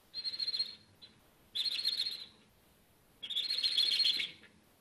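A voice imitates squeaking mice with three high, thin squeals, each lasting about a second, separated by short pauses, close and fairly loud.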